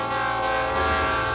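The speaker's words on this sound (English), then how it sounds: "a diesel engine rumbled out of Dallas, Texas, and headed west" A diesel train engine heading west out of Dallas, Texas rumbles loudly while its horn blares in a sustained, close, chord-like blast throughout.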